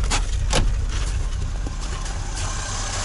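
A Moskvich 2141 car engine running just after starting, a steady close idle with a low rumble and a couple of brief sharper bursts near the start.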